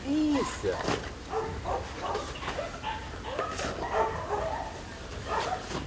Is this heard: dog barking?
yes